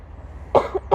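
Two short, forced coughs close to the microphone, with a brief pause between them and a soft throat sound in the gap.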